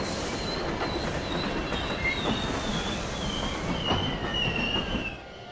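Train pulling in within Grandia HD Remaster, a steady rumbling roll of wheels on rails with faint squeals drifting above, loud and continuous throughout before easing slightly at the end.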